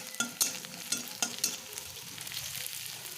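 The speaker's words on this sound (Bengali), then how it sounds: "পেঁয়াজ কুচিটা নরম হয়ে আসা পর্যন্ত এরকম করে আস্তে আস্তে নেড়ে চেড়ে নেবেন" Chopped onion frying in a pan is stirred slowly, with a few crisp spatula scrapes early on over a gentle, continuous sizzle, close and quiet.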